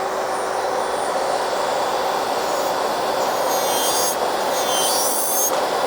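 An electric nail file drill with a 5-in-1 bit removes gel polish and some hard gel, giving a steady high whirring grind with a faint rasping edge throughout, close and fairly loud.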